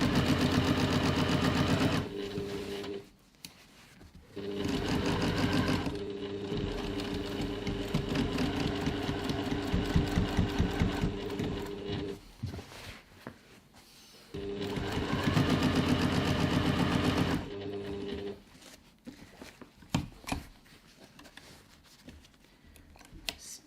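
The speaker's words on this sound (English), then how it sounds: "now I'm going to top stitch the top edge" A sewing machine runs in long steady bursts while top stitching the top edge of a reusable grocery bag, about 1/8 inch from the side, with short pauses between runs and no talking.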